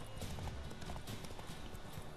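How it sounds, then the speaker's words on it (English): Hooves clip-clop in a steady walking rhythm as a horse moves along in The Witcher 3 video game, close and even, with faint game ambience beneath and no talking. "just walking through here on my horsey"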